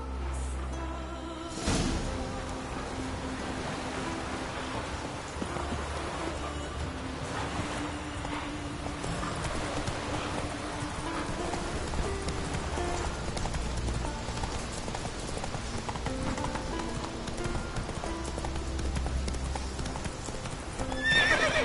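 The horse Roach trots with steady clip-clop hoofbeats in The Witcher 3 and lets out a whinny near the end, set against a music-filled game soundtrack.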